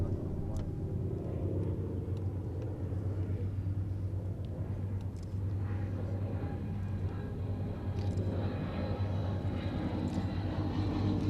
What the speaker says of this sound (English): TFC's Gladiator, settling back onto the grass.